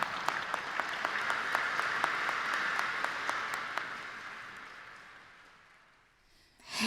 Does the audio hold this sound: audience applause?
yes